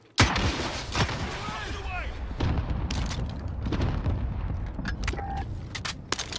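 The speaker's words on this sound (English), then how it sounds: "I've got to fire that rocket right up there first" A rocket launches in a video game with a sharp, loud blast followed by a dense roar and rumbling debris that stays heavy throughout, with further booms and cracks near the end.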